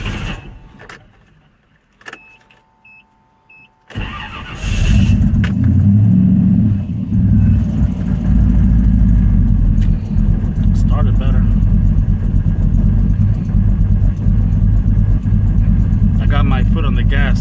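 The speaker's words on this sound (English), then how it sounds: "Now let's see how it starts." Small-block Chevy V8 fitted in a Nissan D21 truck cranks briefly after a few quiet clicks, then fires and settles into a loud, lumpy idle rumble close by, with some speech over it.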